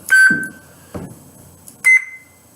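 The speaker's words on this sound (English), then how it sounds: "The high-pitched beeps are those 3 primary colors" Two sharp, high-pitched electronic beeps from a toy lightsaber, about two seconds apart, separated by a quiet click, with no voices.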